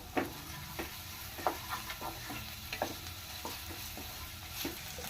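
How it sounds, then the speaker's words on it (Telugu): Curry leaves and ginger-garlic paste fry in a pan for a snake gourd milk curry, a steady sizzle punctuated by regular, close spatula scrapes and clinks as it is stirred. "కొద్దిగా కరివేపాకు వేసుకున్నాం, అలాగే కొద్దిగా అల్లం వెల్లుల్లి పేస్ట్ కూడా వేసుకున్నాం. అవన్నీ కూడా బాగా కలిపి"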